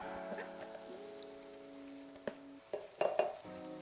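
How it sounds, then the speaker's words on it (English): A pan of chickpea curry sauce with yoghurt simmers with a soft, close bubbling sizzle, broken by a few brief clinks and scrapes of stirring. "You really want to let the yoghurt cook down into that sauce. So leave it simmering away, or keep stirring if you want to"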